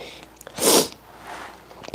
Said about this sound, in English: I apologize for that sniff